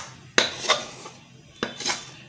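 Mung dal burfi mixture being scraped from a pan onto a ghee-greased plate, with two sharp metallic clinks, each followed by a softer scrape, close and alone.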